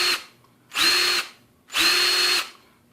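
A Ryobi 18 volt One Plus cordless drill driver spins up twice in short bursts, each a steady high whine lasting about half a second, with quiet gaps between, close up and alone.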